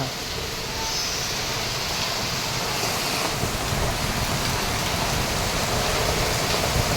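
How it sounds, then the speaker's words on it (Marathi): Heavy monsoon rain in Mumbai pours steadily, a dense, continuous roar of water on surfaces with a faint wind hiss throughout. "पाऊस कसला पडतो तुफान एकदम तुफान बॅटिंग चालू आहे पावसाची"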